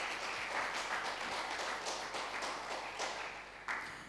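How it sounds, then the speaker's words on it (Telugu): A church congregation clapping loudly together in a steady, rhythmic pattern of sharp hand claps, repeating evenly without pause across the whole stretch. "గట్టిగా చప్పట్లు కొట్టాలి, గట్టిగా చప్పట్లు కొట్టాలి"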